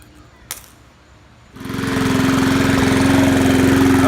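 A small click, then a Rally 20-inch push mower engine starts and settles into a loud, steady idle with a low, even rumble, idling too low.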